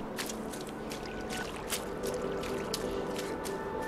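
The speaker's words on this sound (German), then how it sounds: "Das Plätschern kam von dem Spiel." Water splashing and trickling in the space exploration game No Man's Sky, a steady wet sloshing with scattered brighter splashes running throughout at moderate level, with no voices.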